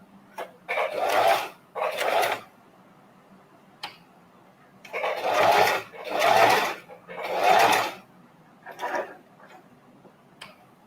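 A sewing machine stitches one piece of fabric onto another in several short whirring runs, stopping and starting between bursts, close and clear with no talking.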